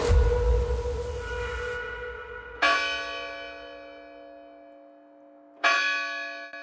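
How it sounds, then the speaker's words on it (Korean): Church bell at the Fatima sanctuary in Portugal, a loud ringing toll followed by two more distinct strikes spaced a few seconds apart, each one ringing out and slowly fading in open air. "여러분, 파티마 종소리 들리시나요?"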